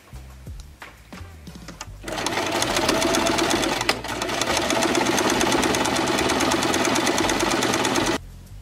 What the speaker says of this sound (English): So I've gone ahead and just overlocked this skirt piece